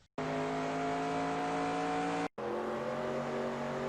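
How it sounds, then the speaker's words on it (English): A NASCAR race car in NASCAR Racing 2002 Season at Watkins Glen screams at full throttle with a loud, steady engine drone, briefly cut off for a gear change before resuming. "it's a full throttle blast down the left side, back to the start-finish line and the end of the lap."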